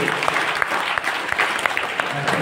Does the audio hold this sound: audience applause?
yes